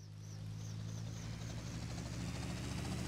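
Helicopter rotor in GTA Vice City, a steady low engine drone with rhythmic blade whooshes above it, loud and continuous, building slightly over the first second.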